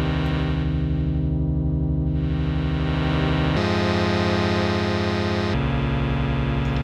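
Synth pad built in NI Massive with two filters blended together, a thick sustained chord with swirling, sweeping filter movement and a couple of abrupt timbre shifts, loud and continuous with no voices.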